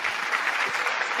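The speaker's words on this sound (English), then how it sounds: "you actually finally put a round of applause on your soundboard" A short soundboard applause effect: a burst of dense clapping, like a crowd applauding, steady and fairly loud for about a second.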